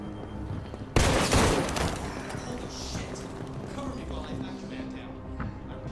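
A single loud gunshot cracks out suddenly in Detroit: Become Human, followed by a decaying rumble and lower game ambience, with voices speaking faintly underneath.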